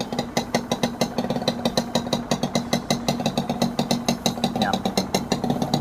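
A stock Honda NSR two-stroke motorcycle idles through its exhaust, a close, rapid, uneven popping and crackling beat over a steady mid-pitched hum, no voices.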